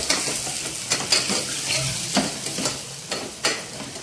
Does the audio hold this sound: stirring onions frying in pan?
yes